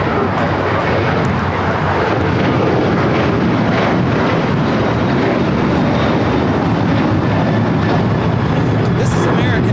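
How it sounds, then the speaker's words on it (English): An American Airlines Boeing 737-800 roars down the runway on takeoff at LAX, a loud, steady jet engine rumble with broadband noise that holds throughout, plus faint voices in the background. "This is American Airlines 1292 taking off to Nashville on the 737-800."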